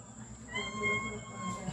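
A cat meows once in a home, a short faint rising call over low room noise and background murmur.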